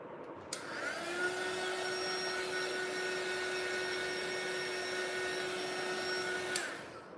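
A heat tool dries paint on a canvas, starting abruptly with a loud, steady high-pitched blowing whine and a constant hum that hold for about six seconds before it shuts off.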